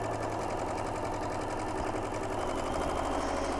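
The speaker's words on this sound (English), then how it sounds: "I'm going to be sewing along the outer edge 1/4 inch" A sewing machine runs continuously and loud, stitching a quarter-inch seam along the outer edge of half-square triangle pieces for a big butterfly quilt block. Its needle chatters in a fast, even rhythm.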